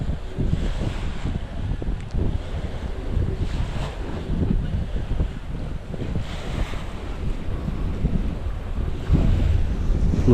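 Water laps at a beach on the River Thames in London, a continuous wash of gentle waves heavily mixed with gusty wind buffeting the microphone, with no clear individual breaks.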